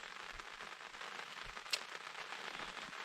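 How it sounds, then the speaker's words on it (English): Light rain beginning to fall at a lakeshore campsite makes a faint, even hiss of patter, with one sharper crackle partway through. "it's starting to rain"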